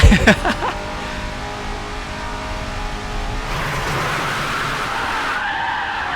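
A race car brakes hard and skids in the Racing Master video game, likely a Bugatti Centodieci, with a sharp screech and tyre squeal up front, then a sustained roaring engine and tyre noise that continues loud throughout.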